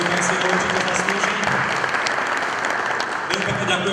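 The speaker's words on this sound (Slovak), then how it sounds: "samozrejme potlesk pre najlepšieho rozhodcu, ten si ho určite zaslúži." Applause for the best referee at a football awards evening rises as steady, loud clapping from an audience that continues throughout, while a voice speaks over it.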